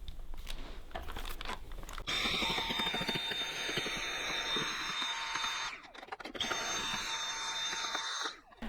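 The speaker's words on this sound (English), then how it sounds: "We're now going to vacuum all the way around here" A vacuum cleaner runs steadily around the body of a Dyson HP04 Hot & Cool fan. The drone is loud and continuous with a high whine, briefly dips twice as the nozzle shifts, and no voice is heard.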